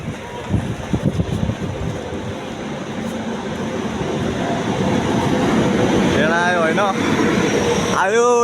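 A train rumbles into a station, its roar building steadily while people talk nearby, and sharp wavering brake squeals ring out as it slows near the end.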